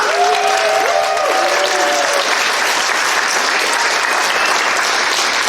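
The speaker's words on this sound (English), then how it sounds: "Also, a big round of applause for Miss Terry on the keys." Audience applause for the keyboard player at a school stage production of The Snow Queen, a dense, steady wash of clapping that carries on at full strength for several seconds, with a brief tonal sound near the start.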